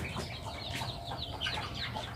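Several chickens at a Filipino backyard poultry farm cluck and chirp softly in overlapping calls, a steady faint farmyard chatter with no talk.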